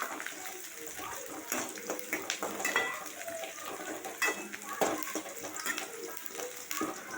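Onions sizzle in a pan while a spoon stirs them, giving repeated metallic scrapes and clinks over a steady frying hiss, close and moderately loud, with no talking.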